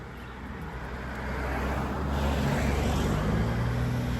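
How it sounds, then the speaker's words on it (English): A car speeds along a coastal road near Karon Beach in Phuket, its engine and tire roar swelling steadily louder as it closes in, with no talking. "like how fast this car's coming?"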